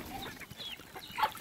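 Hens cluck softly at a farm while feeding on corn, with scattered short calls and a slightly louder cluck near the end, faint and fairly close.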